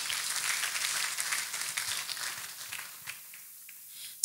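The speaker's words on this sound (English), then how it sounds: "Can you clap hands for Jesus Christ?" Audience clapping hands in a church testimony gathering, a busy patter of applause that thins out and fades to near silence, ending with a sharp close noise.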